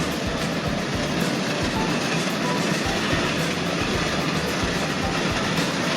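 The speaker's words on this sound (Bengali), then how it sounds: "আমাদের ট্রেনটি এখন দুলহাজারা রেলওয়ে স্টেশনের দিকে এগিয়ে যাচ্ছে" The Probal Express night train runs on rails between Chakaria and Dulhazara toward Cox's Bazar, a loud, continuous rumble with faint clickety-clack from inside the carriage.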